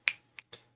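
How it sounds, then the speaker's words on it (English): A clap in a played song gives three sharp, snappy hits, the first loudest and the next two softer, spaced unevenly over a faint low hum. "I really like the clap in it."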